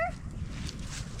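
Campsite dogs Piper and Pearl, guard dogs for a camp with chickens, give a short yip or whimper at the start, then low rumbling background noise fills the brief stretch.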